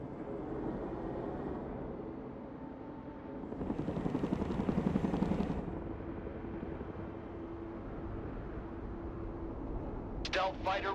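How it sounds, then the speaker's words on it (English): A Chinook helicopter in the video game Broken Arrow rumbles with a steady rotor thrum that swells louder for a couple of seconds, then settles back, with a radio-style voice and brief sharp effects near the end. "Chinook standing by."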